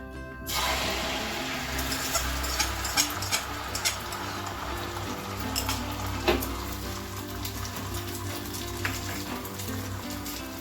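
An egg omelette seasoned with pepper powder fries in a pan, making a soft, continuous crackling sizzle with light pops throughout, faint and steady with no talk.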